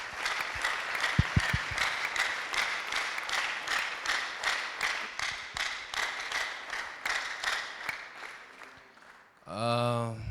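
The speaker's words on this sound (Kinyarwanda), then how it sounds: "Reka twongere Imana amashyi." Congregation applauding for God during a Sunday church service before Christmas, a steady, dense roar of many hands clapping that carries for about nine seconds, then gives way to a short burst of voices at the end.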